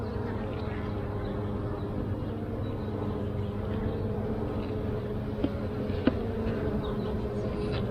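Honeybees buzz continuously around an open hive, a steady, soft drone of many wings close by with a couple of faint clicks.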